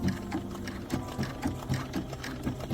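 Sewing machine stitching an appliqué quilt block, its needle running in steady rhythmic bursts close up, with short regular pulses of stitching and no talking.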